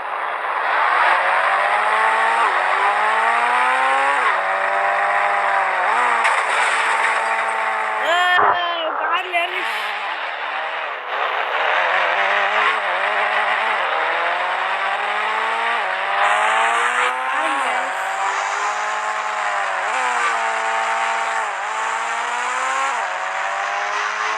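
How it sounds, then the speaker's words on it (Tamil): A car runs at speed with a steady engine drone that rises and falls through gear changes, with a sharp squeal from the tires skidding midway, while a person talks over it. "எப்படி ஸ்கிட் அடிக்குது பாருங்க கைஸ்"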